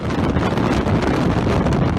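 Strong blizzard wind gusts, estimated at 65 mph and strong enough to knock out power, roar steadily and loudly across the microphone, buffeting it without any break and masking everything else.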